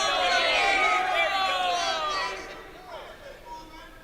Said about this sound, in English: The Hofstra crowd here, pretty enthusiastic about this heavyweight matchup